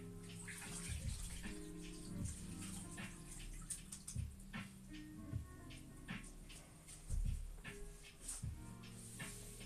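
Water poured for a drink, splashing and trickling in uneven bursts with gurgling and small drips, close and fairly quiet, no talk.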